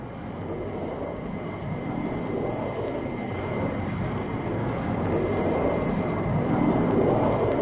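A propeller plane drones steadily overhead, a loud, continuous engine rumble that swells slightly toward the end.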